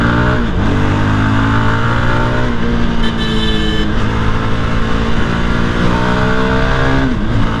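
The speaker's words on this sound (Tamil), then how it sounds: "எக்ஸாஸ்ட் சவுண்டு ஹையர் ரெவரன்ஸில் செம்மையாக இருக்குது." Vehicle with a DOHC liquid-cooled engine revving hard during a speed test, exhaust note climbing and dropping through several gear pulls, loud and close, with no talking.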